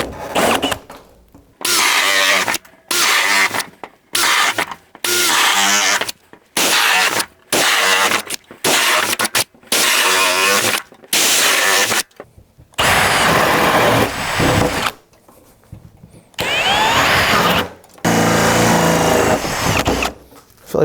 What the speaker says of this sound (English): We're in drill mode. We're going to run down this OSB.